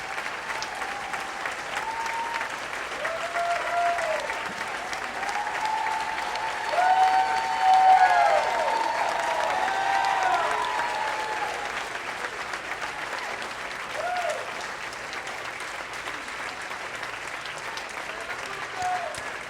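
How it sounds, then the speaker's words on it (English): An audience at a public health PAC event applauds endorsed legislative candidates in sustained clapping that swells midway and then settles, filling the room with steady, fairly loud applause and no speech over it. "please rise for recognition and a well-deserved applause"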